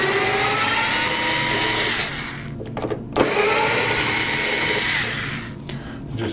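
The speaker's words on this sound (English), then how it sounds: "And then you remove the screws on the tabs on the inside of the pontoon also." A powered screwdriver whines loudly while removing screws from the tabs inside a front motor pontoon, running in long bursts with short pauses and clicks between them.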